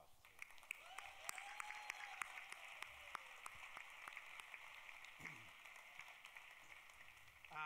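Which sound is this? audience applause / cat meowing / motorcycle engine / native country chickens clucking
audience applause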